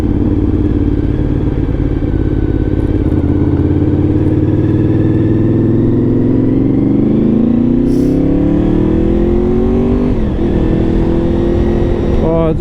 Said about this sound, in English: love that sound of the V4. It's immense.